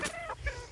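Chickens clucking close by in a backyard, a few short bursts of hen clucks and chatter over a low background rumble.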